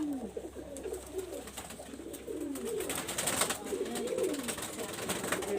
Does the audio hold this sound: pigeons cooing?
yes